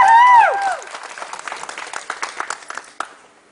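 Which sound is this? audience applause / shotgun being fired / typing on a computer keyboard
audience applause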